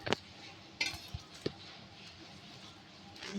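Spoon scraping and clinking against a bowl while smashed bread is mixed with milk, with a few sharp knocks near the start and then a soft steady mixing hiss; no voices.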